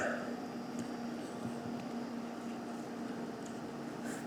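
Exhaust fan running steadily at a soldering bench, a constant whirring hum with a faint tonal drone, near and unchanging throughout.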